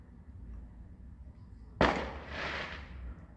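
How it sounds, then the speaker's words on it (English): A single firework bursts sharply at a distance, followed by a crackling, fizzing tail that fades out over quiet background. "There are still fireworks going off tonight"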